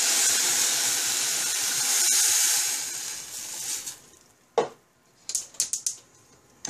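Water poured into a hot pan gives a loud, steady hiss of sizzling that fades out after a few seconds, followed by a few sharp clinks and taps of cookware close by.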